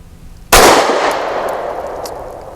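A single sharp 9mm shot from a Kimber R7 Mako compact pistol firing Wolf 115 grain steel-case ammunition, loud and close, with a long ringing decay afterward.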